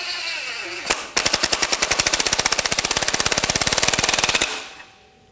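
Power tool driving down the strut mount nut on a 2000-2006 BMW X5 front strut, a loud rapid hammering rattle running about three seconds at a steady pulse, then stopping abruptly, close up with no talking.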